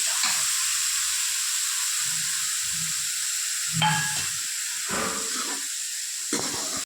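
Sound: onions frying in hot oil for tadka

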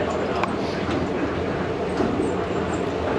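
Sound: train ride between airport terminals

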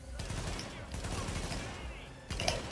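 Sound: gunfire shooting through fences in video game The Division

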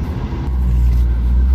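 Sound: road traffic, cars in a traffic jam

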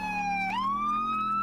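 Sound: ambulance siren in a roleplay video game

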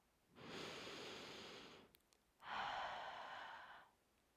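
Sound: audible inhale and exhale breathing

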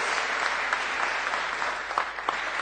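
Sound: audience applause

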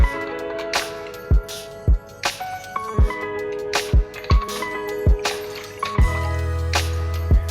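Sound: water poured into a cup

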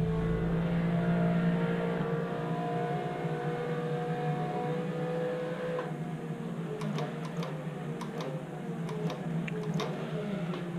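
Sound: race car engine in video game rFactor 2

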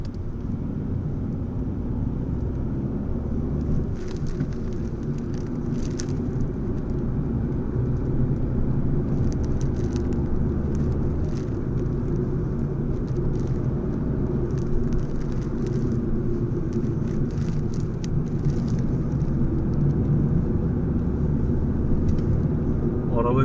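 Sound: Fiat Egea car driving on the road

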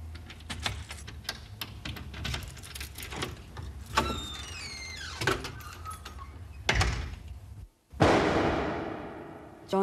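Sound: door opening in reconstruction

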